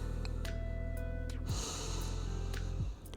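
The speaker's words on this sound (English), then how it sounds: "we're going to take 3 deep breaths in here" Slow, deep breaths drawn in and let out during a cool-down stretch, close and audible over steady background music.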